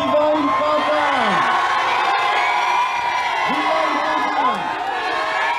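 A huge outdoor crowd that has waited hours greets the Pope on his arrival, a dense roar of cheering and whoops that holds steady throughout, with drawn-out vocal swells rising and falling above the mass of voices.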